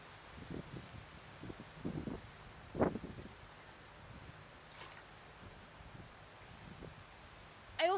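Gusty wind blows beside a school pond, striking the microphone in soft, low rumbling bursts. The gusts rise and fade irregularly over a quiet outdoor background.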